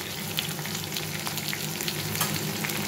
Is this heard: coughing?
no